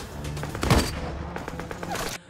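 Sniper gunfire in a war story, a sharp close burst of shots with a short rattling echo trailing off.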